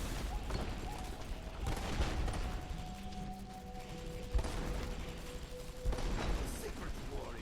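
Rapid crackling bursts of gunfire or fireworks from the action game Marlow Briggs and the Mask of Death, popping repeatedly over a busy game soundscape with a couple of louder booms and some talk over it.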